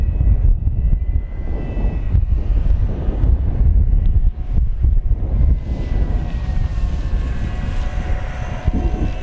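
An FMS Corsair 1700mm RC warbird upgraded with a 360KV electric motor flies overhead outdoors, its steady motor-and-propeller drone rising and falling in pitch as it passes, mixed with constant wind buffeting on the microphone and no speech.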